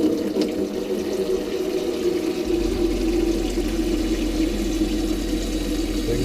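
Water runs steadily from the wash basin tap in an Adria motorhome, close and continuous, with a low hum from the water pump starting partway through.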